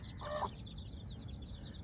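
A free-range native hen gives a short cluck near the start, close by, followed by quieter, higher chirping over a low rumbling background.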